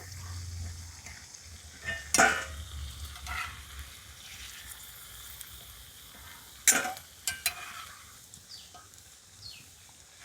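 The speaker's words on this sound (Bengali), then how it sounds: "যেহেতু কাঁচা আলু দিয়েছি তার কারণে একটু সময় নিয়ে ভাজতে হবে এগুলো" Sabudana and raw potato snacks deep-fry in hot oil with a soft, steady low bubbling, broken by a few sharp clicks and clatters of a utensil.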